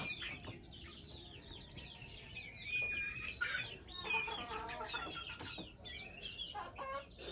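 Chickens cluck and call repeatedly on a poultry farm, a busy overlapping chorus of short clucks and squawks, fairly close, with an occasional rooster call and no talking.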